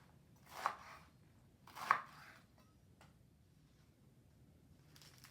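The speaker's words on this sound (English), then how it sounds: "Slicing and chopping, and here goes the next one" A knife slices through romaine lettuce on a cutting board, two crisp, distinct chopping strokes about a second apart, close and fairly quiet, then near silence.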